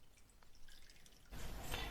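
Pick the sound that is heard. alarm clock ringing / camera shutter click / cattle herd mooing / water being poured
water being poured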